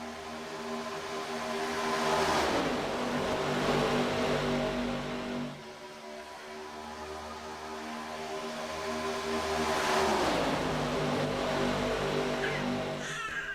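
Race cars roar around a racetrack during a close pack battle, engine noise swelling and fading as cars pass near, with repeated loud drive-bys around the two- and ten-second marks.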